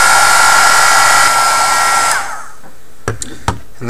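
A heat gun blows loudly and steadily while shrinking heat shrink tubing onto LED wires, then cuts off partway through, leaving a few faint clicks and handling taps.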